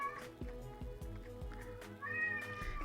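A house cat meows close by, a couple of drawn-out calls over a quiet background of low thumping sounds from a game.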